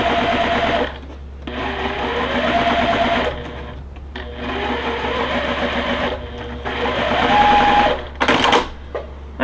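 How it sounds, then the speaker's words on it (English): A sewing machine stitches quilt block pieces together for a Star Light block in loud, close bursts of rapid needle chatter, running several seconds at a time with short pauses between runs. "So let's go ahead and sew those together"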